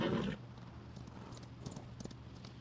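A horse in the PUBG Mobile video game gives a brief loud snort or whinny at the start, then faint hoof clip-clops and small clatters continue under a steady low game hum.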